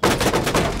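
A quick loud burst of rapid gunfire in Rainbow Six Siege, aimed at a thrown C4 charge in midair, several close shots in fast succession.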